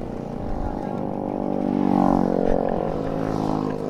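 A classic Honda Astrea motorcycle at a Sunday morning ride gathering runs its engine in a steady mid-pitched drone that swells briefly as it revs, heard nearby beneath people talking.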